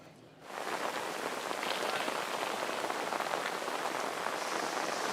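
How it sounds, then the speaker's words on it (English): Steady rain pours down at an outdoor water-ski tour event, starting abruptly after a brief quiet moment and then holding as a dense, even hiss of drops on surfaces with no voices. "the rain is coming down here"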